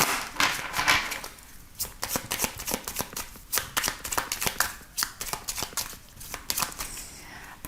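Lenormand cards shuffled by hand for a thirteen-card divination spread, a steady close run of soft riffling and sliding flutters, no speech over it.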